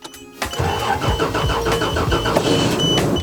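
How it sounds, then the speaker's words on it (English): A Toyota Land Cruiser's engine cranks with a quick rhythmic starter whir, catches after a brief pause, and settles into a steady, close idle. "Yeah, it starts right up. It's a Land Cruiser, of course it's gonna start right up."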